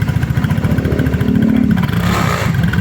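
A 2024 Rusi RFI 175 motorcycle engine revs briefly, a rough pulsing exhaust rising in pitch then settling, close and loud with no voices.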